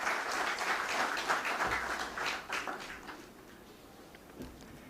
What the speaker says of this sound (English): can we welcome him with a big round of applause